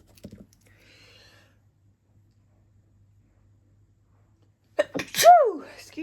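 A single sharp sneeze bursts out loudly near the end, after a quiet stretch with only a brief soft rustle and light tapping at the start.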